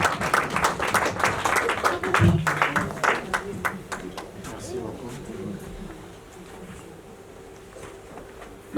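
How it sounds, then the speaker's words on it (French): Audience at a church book launch for a pastor applauds and calls out in acclamation to God, with dense, steady clapping mixed with voices that stays loud for several seconds, then thins and softens toward the end. "Acclamons notre Dieu."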